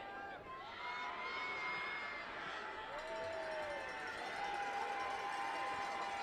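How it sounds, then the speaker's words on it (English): A large crowd at a high school playoff football game roars and murmurs steadily, a broad continuous wash of cheering voices that swells slightly, with an announcer-like voice speaking over it. "You can hear this crowd getting into it."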